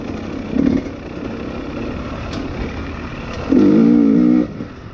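A 2020 XC250tpi two-stroke dirt bike revving while being ridden, with two sharp throttle bursts, one short and one longer and louder, rising over a steady engine drone.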